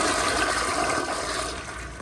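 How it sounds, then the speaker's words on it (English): A 2009 Gerber Ultraflush rear-outlet ADA toilet flushes with a loud, steady rush of water that stays strong throughout and eases slightly at the end, heard up close and alone. "Here's a flush."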